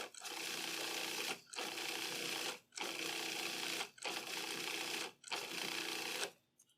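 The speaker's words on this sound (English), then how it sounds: "Got the food processor going on." A food processor whirs as it blends seaweed into breadcrumbs, running in five steady bursts of about a second each, separated by short pauses.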